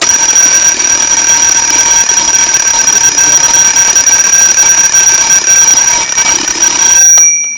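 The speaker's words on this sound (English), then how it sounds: "The alarm works well and very noisily." A wind-up Bradley Mickey Mouse alarm clock's mechanical bell rings loudly and continuously with a harsh metallic clatter, then stops abruptly near the end.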